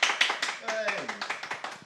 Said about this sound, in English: Should we have a quick round of applause from the live audience before we do the questions?